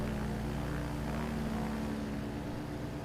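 A propeller plane's engine in Microsoft Flight Simulator 2020 drones as a steady, loud, continuous buzzing hum with no change in pitch or volume throughout.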